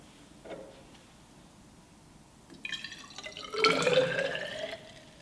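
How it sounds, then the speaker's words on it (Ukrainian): Water trickles and splashes briefly as it is poured from a small bottle into a measuring cylinder, a light pouring sound after a few small clinks, with no talking. "Переливаємо воду з пляшечки у мензурку."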